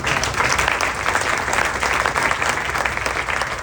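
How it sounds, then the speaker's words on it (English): Audience applause at a groundbreaking ceremony for the CMT project at Arrowhead Center, a dense, steady wash of many hands clapping that holds loud and even for the whole stretch. "And I give Derek a round of applause."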